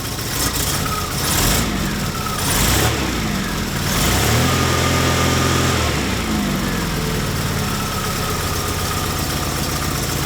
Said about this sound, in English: I'll push the choke all the way in. Just rev it up a little bit.